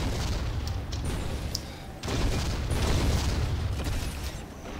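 Dense rapid cannon fire and explosions in an Unreal Tournament 4 assault match, a continuous loud barrage of booming shots with a brief break midway, no voices over it.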